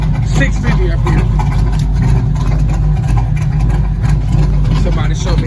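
A car engine fitted with an Edelbrock 650 carburetor idles steadily with a low, constant rumble close by, while a person talks over it throughout.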